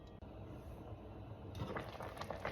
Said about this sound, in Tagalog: kumukulo na po ang pusit